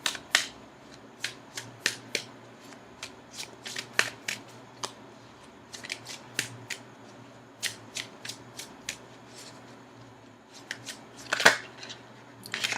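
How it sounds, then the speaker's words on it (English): Tarot cards being shuffled by hand, heard close up as many quick, crisp riffling snaps in irregular bursts over a quiet room, with a louder cluster near the end. "Now I'm going to go ahead and shuffle for an outcome card."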